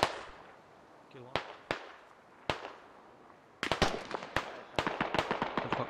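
Sharp, far-off gunshot cracks in a Squad Masters Blitz match between SpecOE + owLs and =E.M.A.N=, single shots at first, then a dense irregular burst of overlapping shots with faint talk underneath.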